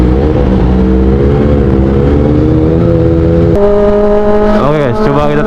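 Kawasaki ZX25R motorcycle fitted with an Arrow Pro Race exhaust, idling with a loud steady rasp, then revving up sharply near the end with a quick rise and fall in pitch, heard up close.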